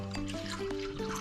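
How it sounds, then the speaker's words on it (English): Water poured into a row of cups for a colour-mixing science experiment, a close, steady trickling pour with shifting liquid tones running throughout. "First, you fill every other cup with water."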